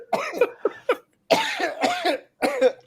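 A person coughs repeatedly in several harsh, hacking bursts separated by short pauses. The coughs are close and fairly loud, with no talk around them.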